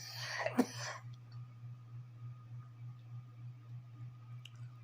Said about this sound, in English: See the coughing?